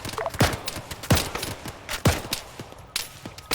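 Sharp rifle shots in ArmA 3 crack out in an uneven string of about four loud, close reports, with fainter shots and rustling movement filling the gaps between them.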